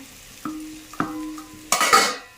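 A spoon taps and knocks against a pan a few times before sautéed okra drops into hot masala for bhindi curry, followed by a sudden loud sizzle as it is stir-fried.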